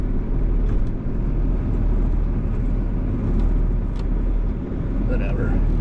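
Vehicle with no working foot throttle idling along on a frozen, messy outing: a steady, loud low engine rumble throughout with continuous road or wind roar, and a faint voice passing over it near the end.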